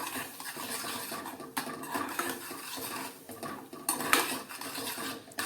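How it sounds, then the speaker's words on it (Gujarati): A spoon stirs curd into a chilli mixture in a pan with the heat off, making a steady, close run of scraping and clinking against the metal with a few sharper knocks. "દહીં નાખ્યા પછી આપણે હલાવી લઈએ"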